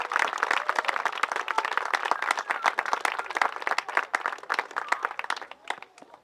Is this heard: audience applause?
yes